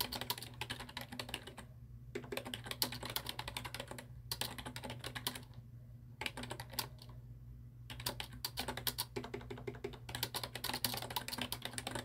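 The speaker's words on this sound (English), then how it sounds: "Can you hear me typing?" Rapid, continuous clicking of a computer keyboard, with a few brief pauses between bursts of fast typing, close and crisp over a low hum.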